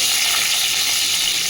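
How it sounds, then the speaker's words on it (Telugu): Garlic and green chili frying in oil in a pan for radish sambar, a dense, steady hiss of sizzling, close and loud, alone without speech. "ఇట్లా కొంచెం వేగనివ్వాలి"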